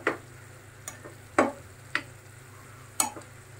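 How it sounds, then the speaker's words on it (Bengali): Minced beef with chopped green chilies cooks in a pan, with a low steady simmer under a handful of sharp scraping taps, likely a spoon stirring against the pan at irregular intervals. "এখন মাংসটা সিদ্ধ হোক।"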